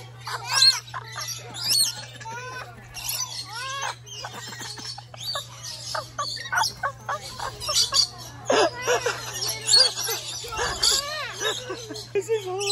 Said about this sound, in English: Oh, Bobby, you got a bird on your head.